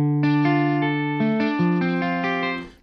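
A dry synthesized guitar from the Pure Synth Platinum app plays a short sequence of sustained chords, each changing cleanly with no reverb or trailing echo.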